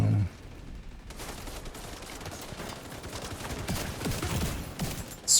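A Scorpio gun fires in a video game in a rapid stream of crackling shots that starts after a brief quiet moment and runs steadily to the end.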